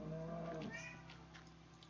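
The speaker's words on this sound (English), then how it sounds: "Ignore my cat. She's just a troublemaker." A pet cat meows once, a drawn-out, faint cry from a short distance, followed by quiet background.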